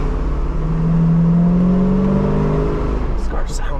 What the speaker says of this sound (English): This car sounds really good.